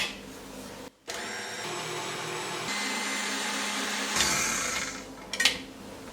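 An electric mixer whips very cold cream with sugar and cheese, running as a steady close whir that cuts out briefly, restarts, and shifts pitch as the mix thickens, ending with a few rattling bursts.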